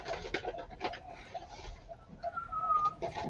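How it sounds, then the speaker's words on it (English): A single thin, steady whistle tone rises briefly over soft outdoor background noise and faint bird-like calls, sitting close and clear for under a second. "I heard a whistle"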